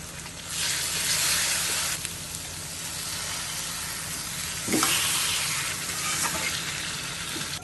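Taro greens fry in a pan with ginger, garlic paste and chili, giving a steady, close sizzle with a louder surge of hissing partway through and faint stirring scrapes.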